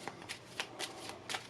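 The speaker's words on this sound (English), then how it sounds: "Overhand shuffle, just like that." A deck of playing cards is worked through a false overhand shuffle, each packet dropping with a soft papery flick in a quick, steady run of about six close, quiet riffles.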